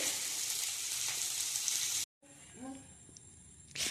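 Dinner frying in a pan gives a steady, close sizzle for about two seconds, then breaks off into a quieter home scene where a voice is faintly heard.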